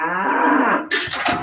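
A single cow moos in a long, low, loud bellow, close and alone, followed by a short burst of breathy noise.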